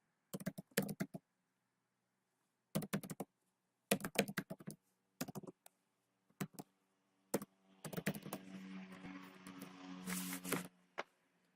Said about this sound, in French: Maintenant, on va taper notre mail.